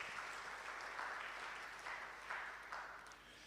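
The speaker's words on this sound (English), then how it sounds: "And we also have Tekwane Primary School, who are also here. Let's give them a round of applause" Steady applause from a school audience for Tekwane Primary School at a robotics challenge, a dense wash of many hands clapping with small swells throughout and no talk over it.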